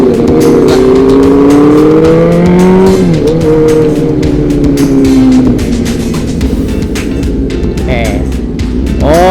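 Kawasaki ZX10R motorcycle engine at racing speed, a loud sustained high-pitched whine with rising and falling revs, close and continuous, with voices talking over it.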